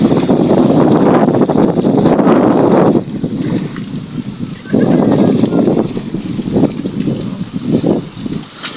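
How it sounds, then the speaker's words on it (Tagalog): Steady, loud wind buffeting the microphone by a lake, with gusty roaring that dips and surges throughout. "Ano ang lawa ngayon? Maingay. Mahangin kasi."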